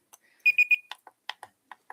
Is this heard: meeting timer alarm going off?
yes